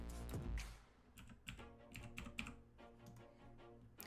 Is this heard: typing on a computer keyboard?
yes